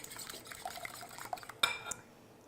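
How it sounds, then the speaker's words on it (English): Eggs whisked in a bowl in a home kitchen: quiet, quick clinking and swishing of a whisk against the bowl, ending with a sharper clink and a brief scrape before it stops. "Just want to whisk those up so they're starting to turn a lighter yellow."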